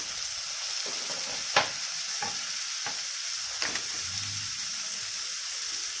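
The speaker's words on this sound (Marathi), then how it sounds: "चांगलं परतून घ्यायचं टोमॅटो कांदा" Tomato and onion sautéing in a pan, a steady soft sizzle with a few sharp spoon scrapes and clicks as they are stirred, close and alone without talk.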